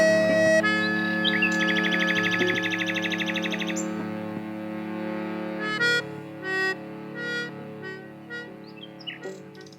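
A nightingale sings outdoors, close and clear, with rich whistled phrases, rapid repeated notes and sudden pauses, unaccompanied by speech.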